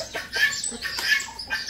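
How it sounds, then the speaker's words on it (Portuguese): Chickens clucking and pecking at food close by on a rural property, a few short bursty clucks in quick succession with no one speaking. "Só essas galinhas aqui que tá comendo."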